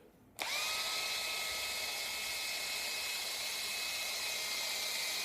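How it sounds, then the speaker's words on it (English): A power drill starts suddenly and bores into wood pith, running at a steady high-pitched whine, loud and close, with a constant grinding hiss beneath. "when you're into the pith, you go full drill"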